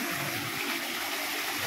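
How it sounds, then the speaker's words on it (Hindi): Water falling and splashing steadily, a continuous broadband rush like a stream or small cascade, moderately quiet with no talking over it. "देख केमिति पानी खसुची"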